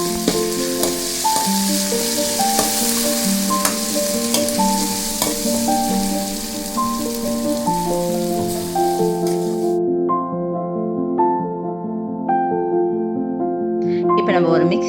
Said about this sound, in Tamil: ஸோ வதங்கின உடனே நம்ம அரைச்சி வச்சிருந்த தக்காளியுமே வந்து இதில் போட்டு நல்லா வதக்கணும் ஃப்ரெண்ட்ஸ்.